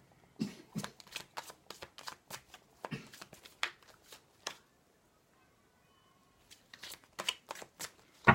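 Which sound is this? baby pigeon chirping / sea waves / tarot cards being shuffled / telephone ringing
tarot cards being shuffled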